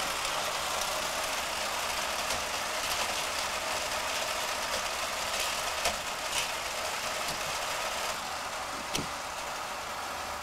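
A tuned white Mitsubishi Eclipse idles at a race track, a steady engine hum with a broad hiss, holding level from start to end, and faint clicks and knocks now and then.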